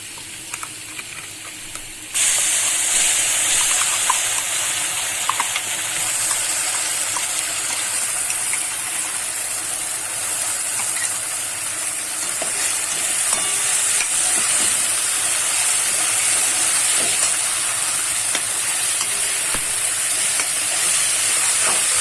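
Onion sizzling steadily in a hot pan before masala goes in, a loud continuous frying hiss with faint stirring scrapes, starting abruptly after a brief quieter moment and holding without talk.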